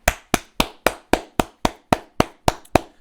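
Twelve sharp, evenly spaced claps ring out close and loud in a steady rhythm, each one alone with silence between, no talking.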